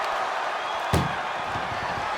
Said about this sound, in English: First door shut.